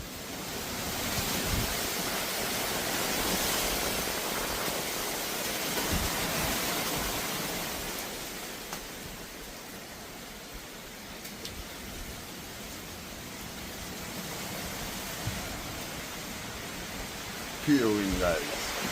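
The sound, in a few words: hurricane wind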